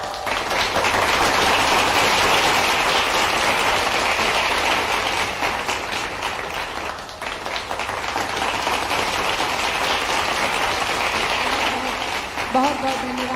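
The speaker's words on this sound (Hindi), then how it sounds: "जोरदार तालियां।" A large crowd at a live public event in Jabalpur claps loudly and continuously for a foundation-stone ceremony, a dense wash of applause that dips briefly midway, with voices faintly audible near the end.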